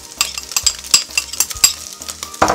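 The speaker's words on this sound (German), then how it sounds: "Ich mache die Zwiebelwürfel dazu und den Knoblauch" Crumbly minced meat fries in olive oil as diced onions and garlic are added, with a light sizzle under repeated sharp clicks and scrapes of a utensil against the pan, close and without speech.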